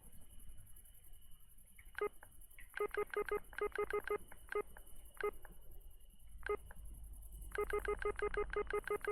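Phone keypad dialing tones in the video game The Windows Are Gone, sounding as quick bursts of evenly spaced beeps in irregular groups, with a steady high background hum throughout.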